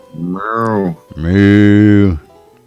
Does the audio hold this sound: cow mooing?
yes